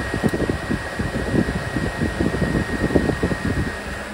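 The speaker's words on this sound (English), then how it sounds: "There's the air conditioner." An air conditioner runs just after being switched on, giving a loud, steady whooshing fan roar with a faint high electrical whine throughout.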